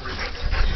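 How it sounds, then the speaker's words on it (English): An excited puppy panting close by, a quick breathy rasp filling the short moment without any voice. "A little spaz pup."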